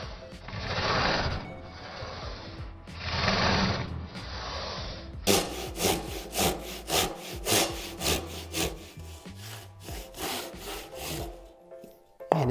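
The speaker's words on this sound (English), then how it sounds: "I'm going to cut in parallel to the grain and remove this chunk of wood." A hand saw rip-cuts wood parallel to the grain, like cutting a tenon on a timber end: two long, loud rasping strokes, then a run of quicker, shorter rhythmic strokes, close and without talk.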